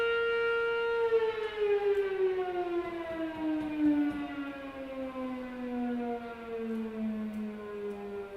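A civil defense siren wails loudly on its own, a steady rising-and-falling tone that slowly drops in pitch and carries through the whole stretch without any voices.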